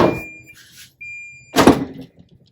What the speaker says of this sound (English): it beeps to let us know when it's done